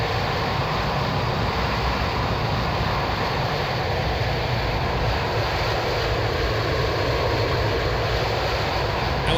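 MD-82 airliner engines roaring past on a flyby in the X-Plane 11 flight simulator, a steady loud broadband jet rumble and hiss that holds constant throughout with no talking.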